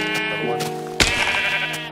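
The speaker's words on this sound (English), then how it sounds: "I found a sheep." Sheep bleats from the Minecraft video game ring out clearly, with a sharp bleat near the middle over steady game music and sound effects, and no talking.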